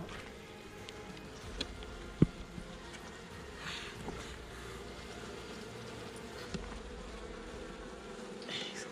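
Honey bees hum and buzz around hive frames during hand honey harvesting, a steady low drone that runs throughout with a few faint clicks and taps, no voices.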